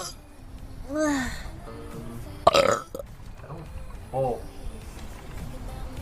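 A woman lets out a couple of throaty burps, one at the start and a louder, sharper one in the middle, with a softer vocal sound near the end over faint background noise.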